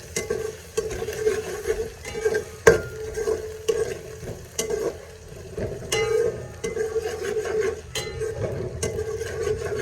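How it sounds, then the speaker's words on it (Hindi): Garlic and green chili paste frying in a pan as it is stirred, with a continuous sizzle broken by repeated scraping and clicking strokes of the spoon against the pan, alone and close. "इसको हल्का सा फ्राई करते हैं ताकि इसका कच्चापन ख़त्म हो जाए।"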